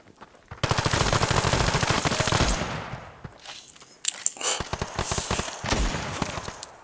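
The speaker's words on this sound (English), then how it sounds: "Gun sprays." Rapid automatic gunfire sprayed in the mobile shooter Standoff 2, one long sustained burst followed by shorter choppy bursts and single shots, loud and close, with no voices.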